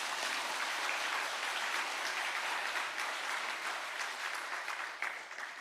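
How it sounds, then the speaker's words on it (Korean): Congregation applause during a Sunday church service, a dense, even roll of clapping from a large crowd that holds steady and then thins slightly toward the end. "박수 한번 보내주세요"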